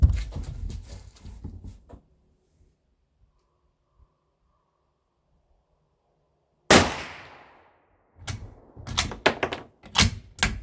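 A Bosley bush ranger rifle fires brass-cased ammunition. The shots are a loud, sharp crack with a decaying tail, then rapid clattering bursts of action noise and handling clicks, close by, with no talking.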